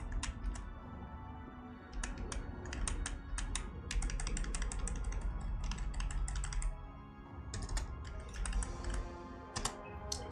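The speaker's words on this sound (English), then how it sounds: "Now I'm gonna be typing a bunch of shit here" Computer keyboard being typed on in fast, irregular runs of crisp clicks while writing JavaScript in Visual Studio Code, close-miked, with brief pauses between bursts over a low background hum.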